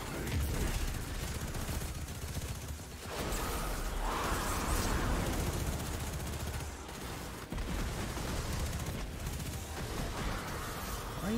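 Dense, continuous gunfire from the Destiny 2 video game, rapid bursts and sustained automatic fire filling the whole stretch with only brief dips.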